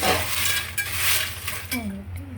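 Jackfruit seeds and peanuts roast together in a pan while a utensil stirs them, with steady scraping, metallic clinks and a faint sizzle up close; a voice briefly speaks near the end.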